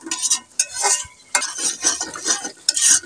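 Spice paste stirred and fried in a pan for a vegetarian vegetable dish, with bursts of hissing sizzle and scraping of a spoon at an irregular rhythm, close and fairly loud, no speech.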